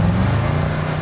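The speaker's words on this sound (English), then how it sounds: "That's the sound of a brand new 2020 Audi RS Q8" Engine of a 2020 Audi RS Q8 rumbling steadily at close range, a low, continuous drone lasting about a second with no voices.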